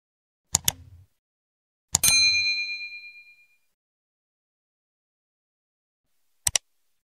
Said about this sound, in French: à activer la cloche de notification pour ne rien rater